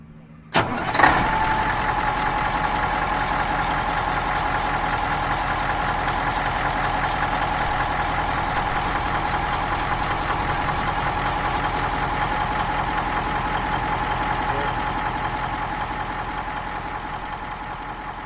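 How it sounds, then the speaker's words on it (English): A Caterpillar 3408 V8 diesel in a 1979 Peterbilt 359 truck cranks and fires, then settles into a loud, steady, close idle that holds for the rest of the clip with no talking. "That's not just any diesel. It's an increasingly rare breed of Caterpillar in an on-highway truck, the V8 3408 motor"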